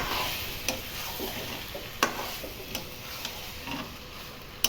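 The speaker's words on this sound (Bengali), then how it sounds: "কষানোর কাজটা অবশ্যই গ্যাসের ফ্লেম মিডিয়ামে রেখে করলে বেশি ভালো হবে" Pressure-cooked pork sautés with spices in a pan over a medium gas flame, a soft continuous sizzle broken by regular sharp scrapes and taps of a spatula stirring, moderately quiet and close.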